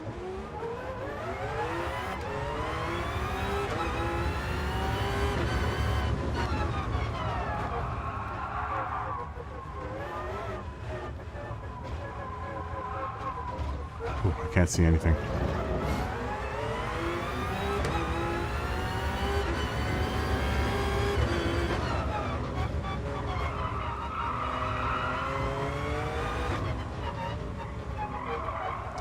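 Toyota TS050 race car engine in GT Sport, driven at Sardegna: a loud, sustained high-pitched whine rising and falling through repeated gear shifts and corners, with a brief skid, while a voice speaks over it.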